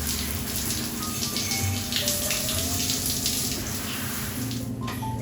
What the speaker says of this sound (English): I got the bike in the wash stand, so let's go ahead and scrub her down